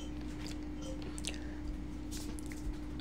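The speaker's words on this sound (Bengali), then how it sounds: "এবারে আমি দিয়ে দিচ্ছি একে একে করে যে সিদ্ধ করে রাখা চানাটা দিয়ে দিচ্ছি" Boiled chickpeas tipped in batches into spiced masala in a pan, soft wet squishes and faint clicks, quiet and close over a low steady hum.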